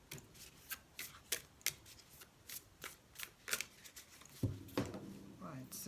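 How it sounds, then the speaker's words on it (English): A deck of tarot cards is handled and fanned up close, a run of crisp repeated riffles and flicks about twice a second, ending with a couple of softer shuffles as someone speaks quietly over it. "So this deck doesn't always fan very well, but I'll do the best I can and pick a couple of cards for you."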